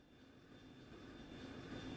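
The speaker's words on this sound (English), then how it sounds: "I don't think I've heard this engine sound before." An airship engine drones steadily as the craft comes in to land in the Trails in the Sky SC video game, a low continuous hum that swells slightly toward the end.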